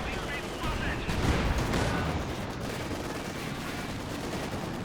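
Gunfire striking a Panzer IV tank in the game Company of Heroes 2, steady machine-gun and artillery fire with a louder swell in the middle and a sustained battle din underneath.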